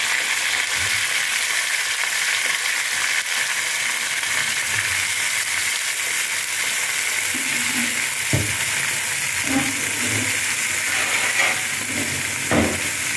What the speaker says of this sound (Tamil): கத்திரிக்காய் வரங்கட்டும்.